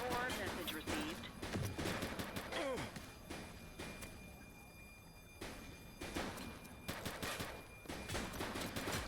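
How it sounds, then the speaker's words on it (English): Rapid bursts of gunfire in the police patrol game Precinct, loud clusters of shots in several volleys with brief gaps between them, and faint voices underneath. "Shots fired!"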